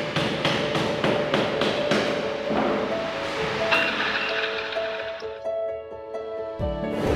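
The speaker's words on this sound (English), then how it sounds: "Using soft rubber hammer is for side buckle molding without damaging the snake and keeping the bayonet in place." A soft rubber hammer taps side buckles into a drag chain in a factory workshop, a quick run of evenly spaced knocks followed by steadier machine hum and ringing tones, fairly close and loud with no talking.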